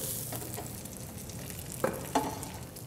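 Plantains and bread fry quietly in a thin layer of oil in a pan, a soft steady sizzle with two brief utensil clicks near the end.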